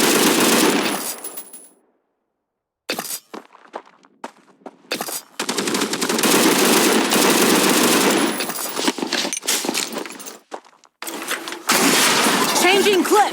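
MG30 machine gun fire in the World War Heroes video game: loud, rapid bursts of automatic shots separated by short silent gaps, with game voices shouting between and over the bursts.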